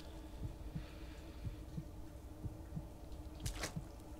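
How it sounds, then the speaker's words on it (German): Heartbeat in the horror video game Cry of Fear on hard difficulty, a steady double-thump pulse of about one beat per second, low and throbbing over a faint ambient hum, with a brief sharper sound near the end. "Oh, jetzt hören wir schon unseren Herzschlag."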